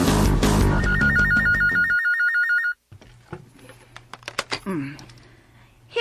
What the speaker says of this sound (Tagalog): Manang! Tabaga ang telepono sa sala!